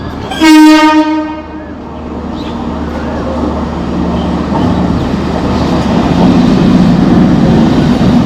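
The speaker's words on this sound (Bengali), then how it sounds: "ট্রেন ঢুকছে দেখুন বজবজ শিয়ালদা লোকাল ঢুকছে মাঝেরা স্টেশনে" A Budge Budge–Sealdah local train pulls into Majerhat station, opening with a loud, brief horn blast followed by a steady, building rumble of the carriages rolling in close by.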